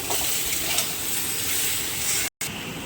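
Ridge gourd with salt and turmeric fries in a pan with a steady, close sizzle, stirred now and then, and the sound cuts out briefly near the end.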